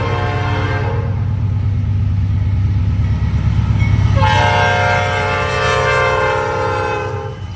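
Monongahela Heritage Unit 8025 locomotive rumbling past up close with a steady heavy low drone and rail noise, its horn sounding in sustained tonal blasts early on and again more strongly toward the end.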